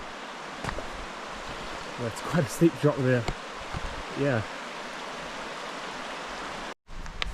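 A river flows beside a backcountry campsite near a hut in the Tararua Range, a constant broadband rush at moderate distance under brief conversational voices.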